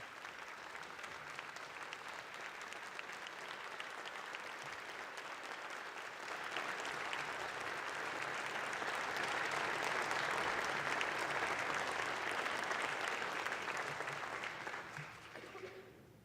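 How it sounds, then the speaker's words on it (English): A round of applause fills the state House chamber, with steady clapping from many people that swells midway and then tapers off at the end. "how about a round of applause for McKenna and all the work that she did?"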